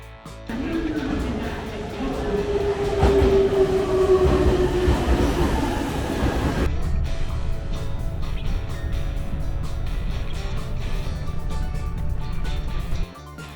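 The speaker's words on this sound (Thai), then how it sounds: "เดี๋ยวเราจะนั่งรถไฟนะคะ JR Shinano Limited Express ไปที่นางโงย่ากัน" Steady rumble and rattle of a moving JR Shinano Limited Express train heard from inside a carriage, with a thin whining squeal in the first half before settling into a constant drone.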